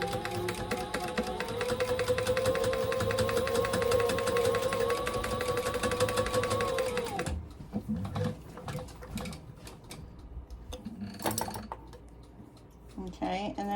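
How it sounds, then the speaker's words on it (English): A sewing machine stitches fabric in a fast, even mechanical rattle for about seven seconds, then stops; quieter handling clicks and rustles follow, close and clear. "we're just gonna stitch along that. Nothing fancy. Okay, back stitch the beginning and the end."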